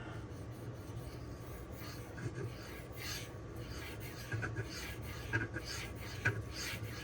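A thin Cold Steel Swift knife blade strokes across DMD diamond sharpening stones, producing a steady, soft rasping rub with a few slightly louder passes, close up and with no talking.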